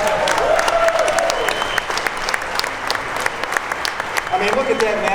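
An audience at the SEMA car show applauds Joe and his team, a loud, steady wash of clapping through the whole stretch with a voice talking faintly underneath and some scattered cheers.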